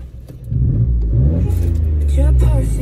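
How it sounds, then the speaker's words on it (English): A Citroen C1 car engine starts up about half a second in, then settles into a steady low idle rumble. People talk over the running engine throughout. "let's turn the car on"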